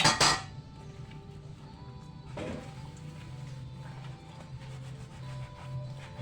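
Dishes and utensils clink and clatter while being washed, with a loud burst at the start and another clatter midway over a steady low hum.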